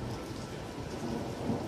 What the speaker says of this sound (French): j'ai eu le meilleur orage là pour l'instant de l'année